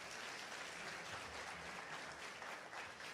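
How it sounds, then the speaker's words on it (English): Audience applause fills an Independence Day celebration after a performance, a dense, steady wash of clapping lasting the whole stretch at even loudness. "Please give them a huge round of applause."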